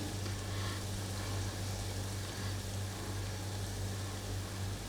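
Gulab jamun frying in oil in a kadai, a steady dense sizzle with a low hum underneath, continuous and close throughout.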